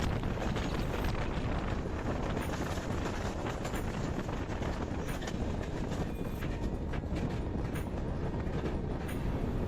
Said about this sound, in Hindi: कोई सुपरफास्ट ट्रेन हमें स्किप कर रही थी, लेकिन स्पीड इतनी तेज थी